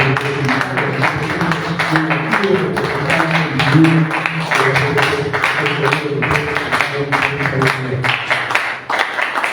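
An audience at a political labor event applauds for a national party leader, producing a sustained, loud wash of many clapping hands that continues for nearly ten seconds, with voices murmuring faintly underneath.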